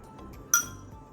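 A spoon stirring a sago and chia seed dessert in a glass gives a single bright clink against the glass, close and clear, over faint soft movement.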